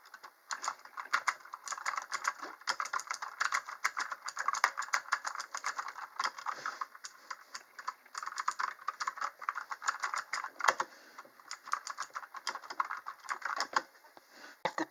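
Fast, steady typing on a Red Dragon K552 mechanical keyboard fills the whole stretch, dense crisp clicky keystrokes close up with brief pauses and no voices.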